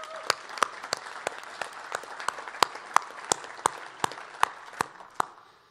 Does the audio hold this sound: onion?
no